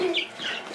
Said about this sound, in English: A Sapphire Gem chicken